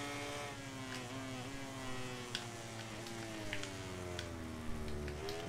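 Racing motorcycle engine in the MotoGP 17 video game, a steady high-pitched whine that climbs and shifts through gears, fairly quiet throughout.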